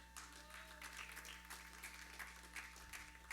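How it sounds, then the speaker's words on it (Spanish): A church congregation claps along steadily, a dense continuous patter of many hands heard at a distance over a low hum. "Dale palmas al Señor."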